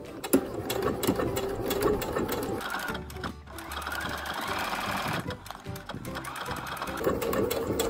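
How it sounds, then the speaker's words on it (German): Sewing machine stitching a dart along a marked line on dress fabric, a close, steady mechanical whirring and rapid needle clatter with brief dips in speed. "Nähe langsam und mit Bedacht und genau entlang der eingezeichneten Linie."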